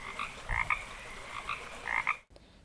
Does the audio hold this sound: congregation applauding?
no